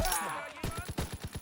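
In a World War II video game, a quick burst of sharp gunshots, about six rapid cracks in a row, follows a brief shouted voice, all loud and close.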